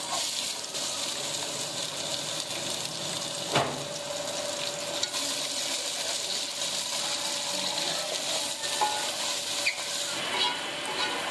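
Onions fry in oil inside a pot for chana dal with bitter gourd, giving a steady, dense hiss and sizzle that holds at an even level, with one brief clank partway through.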